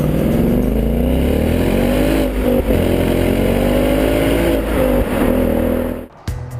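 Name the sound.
Ford Mustang GT V8 engine, manual transmission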